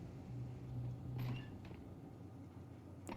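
A squeaky door in the video game Counter-Strike creaks open in a short, drawn-out whine against low ambient game noise, fairly faint.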